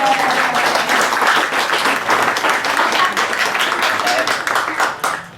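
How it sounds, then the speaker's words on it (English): A room of guests claps at a 60th birthday night celebration, honoring a couple's 35 years of marriage; dense, steady applause fills the space at close range for several seconds, then tapers off at the end. "I think that deserves a round of applause."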